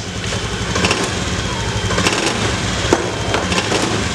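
A Honda Beat FI motorcycle engine runs loud and close after a fuel-spray fix, with a dense steady roar throughout and small rhythmic surges.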